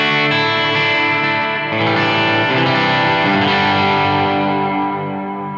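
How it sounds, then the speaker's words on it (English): An electric guitar with its reverb turned down to a less drenched setting plays sustained, slightly distorted chords and notes, loud and continuous, with a modest ambient tail and no voices. "I'm going to dial back the reverb"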